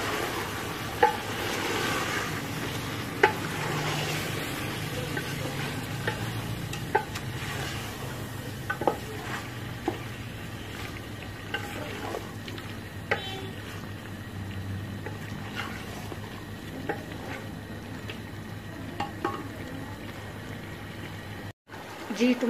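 Masala spices for a mutton kofta curry are stirred as they fry in a pot, a continuous low sizzle with scraping spoon strokes and scattered knocks throughout.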